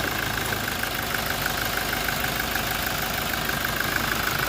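A 2020 Toyota Innova's 1GD diesel engine idles steadily at about 850 RPM, a constant close hum with a faint higher whine running through it and no talk.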